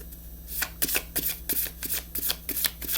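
Tarot cards being shuffled in a riffle rhythm, a run of about eight crisp, papery bursts close up, with no talking.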